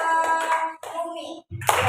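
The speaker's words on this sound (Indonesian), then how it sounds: "beri tepuk tangan dulu untuk kelompok" Children clapping together for a classmates' group in a school lesson, short bursts of hand claps broken by brief pauses, with a voice and some chatter mixed in near the end.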